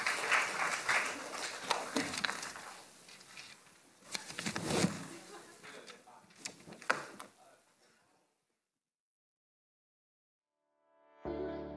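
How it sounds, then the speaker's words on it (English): Applause at a BTS press conference comes in scattered bursts of clapping with sharp clicks, fairly faint. It dies away to silence after about eight seconds, then a short burst of another sound starts near the end. "Let's have a big round of applause for BTS."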